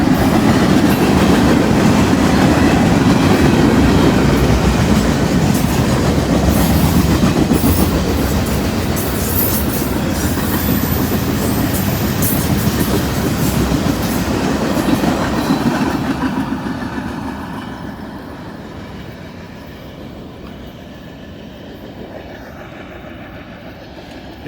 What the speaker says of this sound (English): that was an SD 40-2. And buddy, he was pulling a good load there